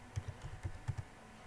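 Keys on a computer keyboard are tapped in a quick, uneven run of soft clicks close by, with no voices.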